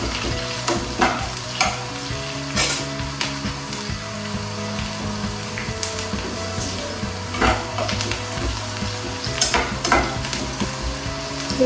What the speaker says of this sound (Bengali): দিয়ে পেঁয়াজটা লাল লাল হয়েছে এখন লাল লাল পেঁয়াজটা এখন আমি মাছটা দেবো ইলিশ মাছের মাথা